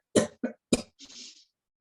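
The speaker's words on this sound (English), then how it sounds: "So we make a cough." Several deliberate coughs during a yoga breathing exercise: three sharp close coughs in quick succession, then a longer breathy exhale, loud and alone in a quiet room.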